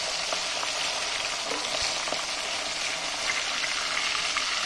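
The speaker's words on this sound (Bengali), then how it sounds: "মাছগুলো কিন্তু ইলিশ মাছ কিন্তু দেখো বেশি ভাজবে না, হালকা ভাজবে" Hilsa fish pieces fry in hot oil in a pan with a loud, steady sizzle and crackle throughout, and a few faint knocks from the pan.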